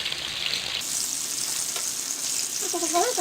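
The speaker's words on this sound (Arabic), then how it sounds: "ها هو دابا غنخليه يحمر عاوتاني على هاد الجهه" Sole fillet frying in a pan: a steady, close hiss of oil sizzling throughout, with a brief rise in brightness early on and a faint clink near the end.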